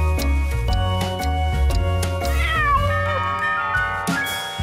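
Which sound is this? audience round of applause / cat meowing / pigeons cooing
cat meowing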